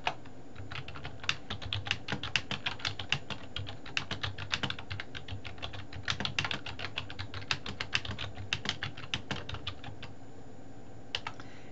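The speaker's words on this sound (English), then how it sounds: "So I'm going to type the text." Fingers type text on a computer keyboard in quick, uneven bursts of crisp key clicks with brief pauses, close and clear with no talking.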